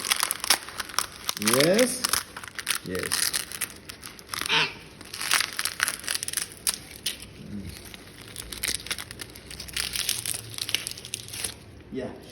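A dried, fully matured ridge gourd seed pod is peeled open by hand, giving close papery crinkles, cracks and tearing in short bursts, with a few spoken words mixed in.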